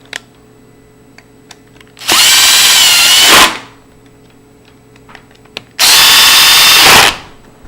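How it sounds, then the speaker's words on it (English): A power drill or drill gun drives screws into a PLS Grade 2 entry function lever lock in two loud, sustained whirring bursts of about a second and a half each. The bursts are separated by quiet handling clicks. "And then I zip them into place with a drill gun."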